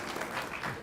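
Audience applause at a board meeting, a brief burst of clapping at moderate level, steady through the short moment with no talk over it.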